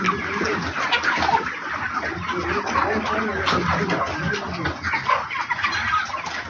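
Broiler chickens crowd a packed poultry farm shed, a dense, continuous chorus of clucking and chattering fowl filling the space, with someone talking over the flock throughout.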